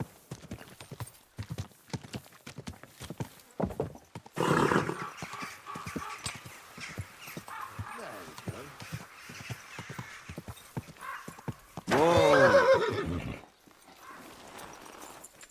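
A horse clip-clops at a slow, steady walk while being ridden in Kingdom Come: Deliverance, with a couple of brief louder bursts, including a whinny near the end.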